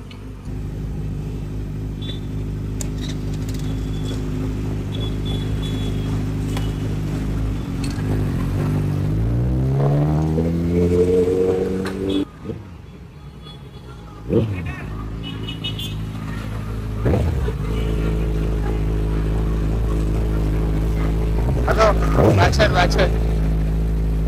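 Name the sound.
Kawasaki Z900 motorcycle engine with louder exhaust while riding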